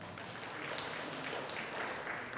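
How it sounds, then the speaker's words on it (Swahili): A large gathered audience at an official meeting applauding, a faint, distant, continuous patter of many hands holding steady throughout without pauses. "Jipigeni makofi mengi sana."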